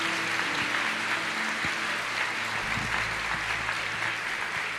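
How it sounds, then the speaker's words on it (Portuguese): A church congregation applauding during a service, dense sustained clapping that stays steady and fairly loud throughout, with faint organ or keyboard tones underneath. "vamos aplaudir o Senhor mais uma vez"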